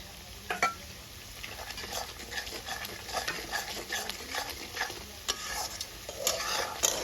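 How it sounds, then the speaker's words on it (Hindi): Ginger and green chili paste added to a hot pan while making mutton curry, sizzling under lively stirring and clinking of a spoon against the pan, close and moderately loud with no talk. "अब मैं डालूंगी अदरक और हरी मिर्च का पेस्ट।"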